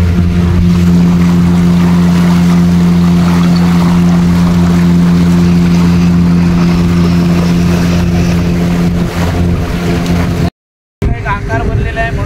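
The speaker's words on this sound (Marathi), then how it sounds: "पाण्याचा आवाज आलाय" Inside a moving motorboat, a loud, steady engine drone mixes with a constant rush and wash of water against the hull. The sound cuts off briefly near the end before resuming with some voices.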